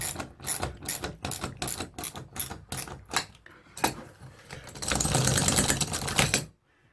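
A screw strips out as a drill drives it into a wall while a TV mounting bracket is installed in a child's room: a quick run of rhythmic ratcheting clicks, then a louder, sustained grinding whir before it stops.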